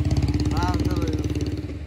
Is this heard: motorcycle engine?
yes